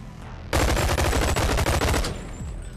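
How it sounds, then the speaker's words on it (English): A gun in the Bonelab VR game fires full-auto, emptying a magazine in a rapid, loud, close burst of about one and a half seconds, with quieter in-game sounds before and after. "did I not just mag dump him?"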